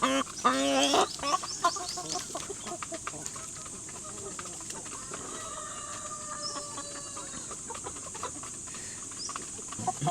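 Chickens, including native birds, cluck and call around a backyard flock in the Philippines, with a busy burst of squawks early on and then steady scattered clucks over rural background noise and occasional low voices.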